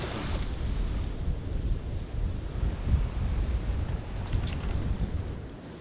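Ocean surf washes steadily against the shore by a seaside villa, a continuous low rumble of waves mixed with gusty wind buffeting the microphone.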